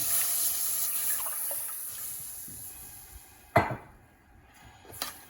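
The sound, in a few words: milk being poured into a pan on the stove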